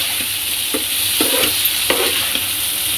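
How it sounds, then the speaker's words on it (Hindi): Potato and parwal sabzi with kasuri methi is stirred in a pan, a spatula scraping in a few uneven strokes over a steady soft sizzling hiss. No one speaks. "अब इसमें डालेंगे थोड़ा सा कसूरी मेथी, इससे टेस्ट अच्छा आ गया। डाल के अच्छे से मिला देना है,"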